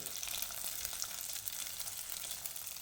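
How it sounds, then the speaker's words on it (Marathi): Fasting-style dahi vadas deep-frying in hot oil, a steady dense sizzle with fine crackling bubbles that holds at an even level throughout, close and alone with no talk. "सगळे वडे हे व्यवस्थित तांबूस रंगावर येईपर्यंत तळून घ्यायचे"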